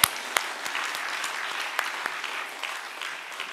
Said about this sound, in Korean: 300명 박수치고.